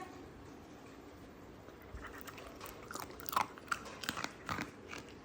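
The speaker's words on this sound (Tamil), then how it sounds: "ஆட்டுக்குட்டி சாப்பிட்றது" A young goat kid crunches dried peas, with soft crisp bites and chewing growing louder toward the end, close-up over a quiet room background and no talk.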